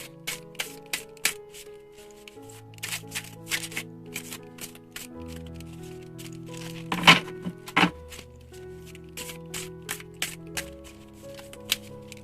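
Tarot cards shuffle and snap against each other in quick, close, crisp bursts, with dealt cards landing at irregular intervals over a soft background of sustained music notes.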